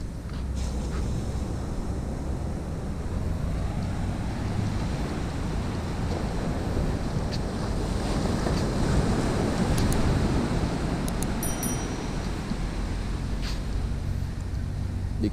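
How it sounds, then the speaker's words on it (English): Ocean waves break on the shore at Freetown, Sierra Leone, a steady, loud roaring wash of surf that swells toward the middle, with gusty wind buffeting the microphone throughout. "I love the waves, the sound of the waves."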